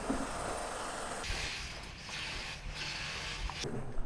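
A clamp on a motorcycle tank bag being tightened gives off a continuous ratcheting, mechanical clicking, loud and close, with short pauses and no talking.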